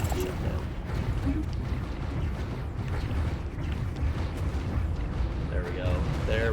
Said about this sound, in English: We're about to play focusing all of our firepower right onto that battleship, though.